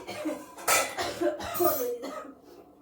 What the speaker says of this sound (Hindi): खांसी ठीक नहीं हो रही, क्या करूँ।